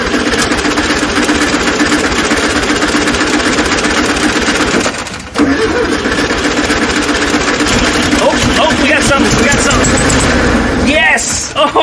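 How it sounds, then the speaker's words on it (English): A 1972 VW Super Beetle, unstarted for over 30 years, cranks and catches into a loud, steady running engine drone that continues nearly throughout with a brief dip midway, while people talk over it. "Alright, I got a feeling this is going to fire. Go ahead and turn that key."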